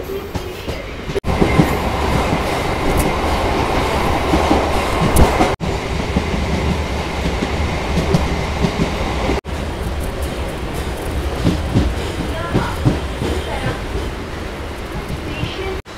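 A Kolkata suburban local train pulls out of Bisharpara Kodaliya station, a steady loud rumble of rolling carriages with rhythmic wheel clatter that carries on throughout.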